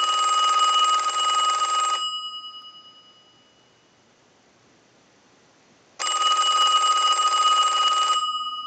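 A Western Electric Trimline rotary telephone rings under repair: two loud, bright bursts of bell ringing, each about two seconds long, separated by a quiet pause.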